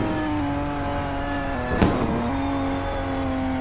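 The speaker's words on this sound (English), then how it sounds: "I randomly decide to downshift instead of just slightly letting off for this corner." A car in a Roblox racing game downshifts into a corner, with a steady engine drone whose pitch dips and then climbs again, plus a brief sharp burst midway. No one speaks.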